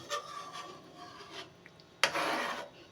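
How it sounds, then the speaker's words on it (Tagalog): A spoon stirs egg and sardines in a frying pan, making soft scraping rubs in short strokes, then one louder sizzling scrape near the end. "haluin natin para hindi mamuo yung itlog"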